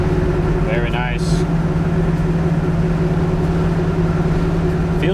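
A Pontiac Trans Am with a 455 cubic-inch engine and four-speed gearbox cruises in fourth gear, its engine humming steadily and loudly at close range while someone speaks briefly near the start.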